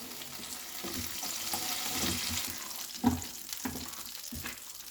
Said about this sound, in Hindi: अब इस आलू को हम मसाले में डाल देंगे ताकि जब तक मसाला होगा आलू अच्छे से कुक हो जाएगा।